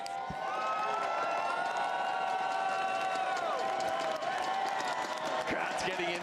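A packed arena crowd at the ALGS Open Apex Legends esports event keeps up a dense, continuous roar of cheering and clapping, with a voice talking over the noise.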